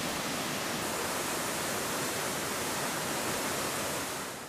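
Steady, dense rush of mountain stream water flowing down through Costa Rican rainforest, a constant broadband wash that stays even throughout with no voices.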